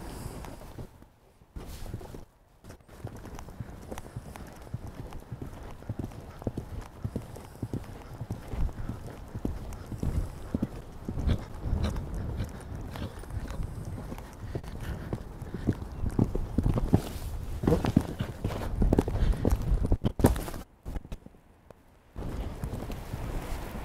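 Horse hooves thud and clop in an even cantering rhythm during a show jumping approach, close and steady for most of the stretch, with short quiet gaps near the start and end.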